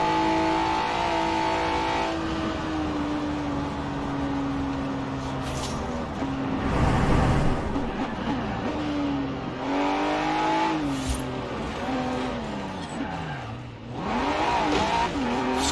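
A car in a racing video game played on a force feedback wheel, with the engine revving up and down through gear changes and brief tire squeals, loud and continuous.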